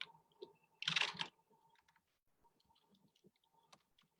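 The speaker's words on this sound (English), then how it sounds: "I'm just going to start typing 2 random letters." Computer keyboard typing: a brief loud burst of clicking keys, followed by scattered soft clicks and faint ticks in a quiet room.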